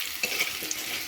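Potatoes frying in mustard oil with salt and turmeric in a wok, a steady close sizzle with faint stirring scrapes through a short moment.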